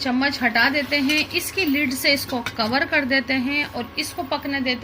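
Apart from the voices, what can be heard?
No everyday noise stands out behind the speech.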